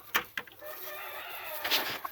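Hen on a homestead farm during morning chores, giving a few short, close clucks and squawks in quick bursts separated by brief pauses, with faint background noise and no talk.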